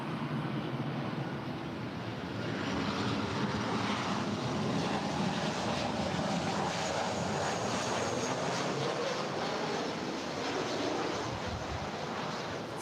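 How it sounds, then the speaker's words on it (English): A 13-year-old United Airlines Boeing 737-800 arriving at LAX from San Francisco, a sustained whooshing engine roar with a faintly shifting pitch, steady and moderately loud, with wind noise and no voices. "Our next arrival is United Airlines Flight 2166 coming in from San Francisco."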